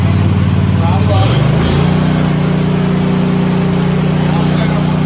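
An Ahrens zero-turn mower's engine throttles up, its loud steady hum stepping up sharply in pitch and then holding at a higher, constant drone close by.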